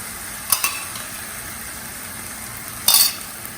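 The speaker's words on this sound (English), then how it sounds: "put it on slow flame and mix the curd" Curd being stirred in a pan over a slow flame, a soft steady sizzle broken by two sharp scraping clinks of a utensil against the pan.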